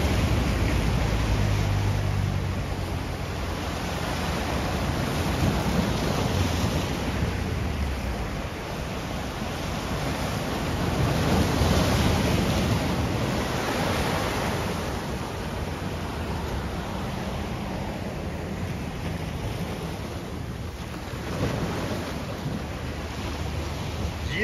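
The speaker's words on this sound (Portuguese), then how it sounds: "dia de mar agitado é assim." Rough sea at Santos beach in São Paulo, with waves rushing and surging continuously in a broad roar, mixed with gusting wind buffeting the microphone, swelling louder in the middle before easing.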